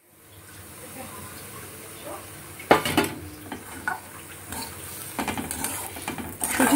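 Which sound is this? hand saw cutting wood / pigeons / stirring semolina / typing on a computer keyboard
stirring semolina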